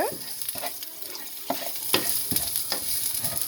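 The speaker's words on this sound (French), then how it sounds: "Remuer un peu." Onion and ginger fry in a pan while being stirred, with soft sizzling under a few scraping utensil strokes, close and moderately quiet.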